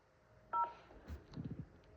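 Two short telephone keypad tones pressed during an automated phone menu, followed by faint low murmuring, quiet and brief.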